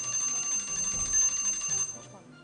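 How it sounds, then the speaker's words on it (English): An electric bell rings out to signal the end of time at a school quiz competition, a steady high ringing lasting about two seconds with faint room noise beneath. "The bell had gone."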